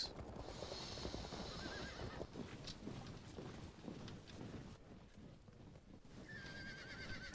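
Unarmored cavalry horses in a strategy battle video game whinny and neigh close up, with hoof clip-clop beneath and a sharp squeal near the end.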